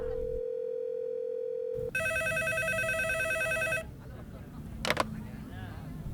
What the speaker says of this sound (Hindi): पब्लिक टेलीफोन बूथ पर इनकमिंग कॉल कैसे आ सकती है?